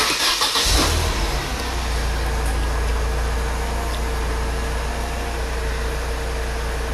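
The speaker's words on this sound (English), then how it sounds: "I'm gonna start the engine." A Mercedes W208 CLK 230 with an oxygen sensor fault code cranks briefly, catches and settles into a steady, close idle that drones on without revving.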